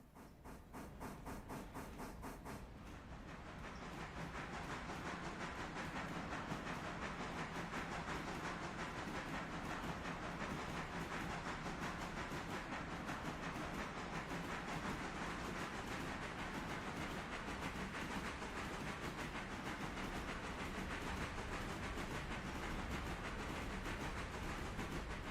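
A locomotive in the Railroader game rolls along the rails, a steady dense hiss and rumble with faint rhythmic clicking that fills the whole stretch after a brief quieter, pulsing start.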